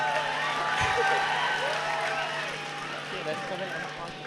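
Dense clapping and cheering from an audience at a university student event, continuous and loud, with shouts and voices blended into the crowd noise throughout.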